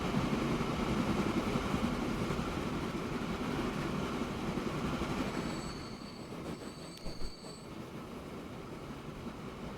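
A fuel train carrying crude oil in the game Transport Fever 2 rolls along with steady rumbling and wheel squeal. The noise eases after about five seconds, leaving quieter clicks and a faint high-pitched squeal near the end.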